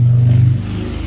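A car engine revs nearby, a loud, deep, steady drone that eases slightly in pitch and level partway through.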